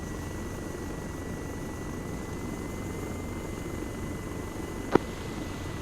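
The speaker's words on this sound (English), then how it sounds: "I guess I'm sticking with the Chinook." A Chinook helicopter in a video game drones with a steady, broad rotor and engine roar, constant and unbroken, with one short sharp click near the end.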